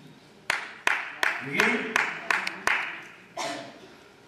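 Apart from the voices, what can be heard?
audience clapping at a live comedy show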